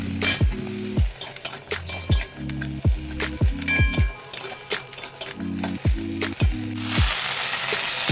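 Leafy greens (note shak) and fried vadi sautéing in a pan, a continuous sizzle with repeated metallic scrapes and clinks of a spatula stirring in a regular rhythm.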